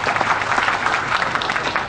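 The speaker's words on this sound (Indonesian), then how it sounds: "Tepuk tangan untuk BSC." Brief burst of dense audience applause at an anniversary event for Radar Banyuwangi, many hands clapping close and loud for about two seconds.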